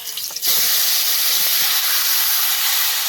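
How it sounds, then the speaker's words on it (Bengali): Chicken meat hits hot white oil with bay leaf, dried chili and cumin, setting off a loud, sudden burst of steady hissing sizzle that fills the pan and continues strongly after a brief quieter moment before the pour. "তেলটা গরম হয়েছে আমি এখন মাংসটা ঢেলে দিচ্ছি"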